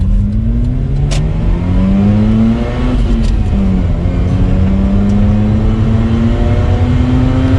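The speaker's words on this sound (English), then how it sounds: "we'll do another acceleration from first gear" A Mazda RX-8 rotary engine pulls hard from first gear, its loud, smooth whine rising steadily in pitch, dipping briefly at a shift, then climbing again close up.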